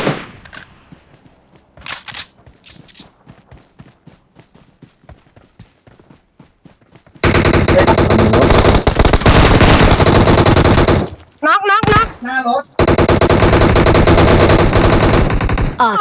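In PUBG Mobile, gunfire rattles at a jeep: a few scattered shots at first, then long, loud bursts of sustained automatic fire with a short break in between.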